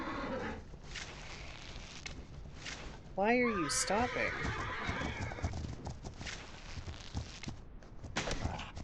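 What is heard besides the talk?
horse walking and neighing in video game The Legend of Khiimori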